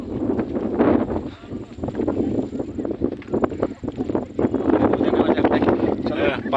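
Wind gusts buffet the microphone on a hilltop, a steady rough rumble that swells and eases throughout, with people talking over it.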